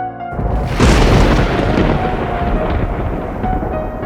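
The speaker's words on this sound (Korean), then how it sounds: "그때 번개가 번쩍이고 천둥 소리가 울려 퍼졌다." A loud, close rumble of thunder breaks suddenly and rolls on, slowly fading into a deep, sustained roar.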